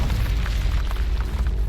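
Incendio fire spell cast in the Hogwarts Legacy video game, a deep whooshing boom of flame with low rumbling bursts, loud and close for under two seconds.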